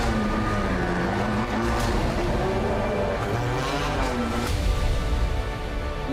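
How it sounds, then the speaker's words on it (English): A DTM race car at the Nürburgring pulls out of the pit lane, its engine a loud, steady roar with rising pitch changes throughout, close by and with no talk over it. "My favorite sound when the car is leaving the pits."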